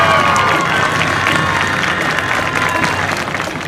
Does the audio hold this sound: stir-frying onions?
no